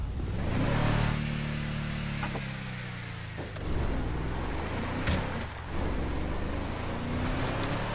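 A car driving in Grand Theft Auto V, with an engine revving and shifting through several surges, plus a couple of sharp clunks and steady road rumble.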